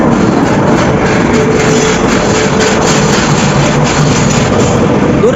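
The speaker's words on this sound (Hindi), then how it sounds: "अराइवल होता हुआ वाराणसी जंक्शन के प्लेटफॉर्म 1 पे अपनी हापा नाहरलगुन स्पेशल ट्रेन भाई।" Hapa Naharlagun special train hauled by a WFP7 locomotive arriving at Varanasi Junction platform 1, heard as a loud, continuous rumble and roar of rolling stock close by that holds steady throughout.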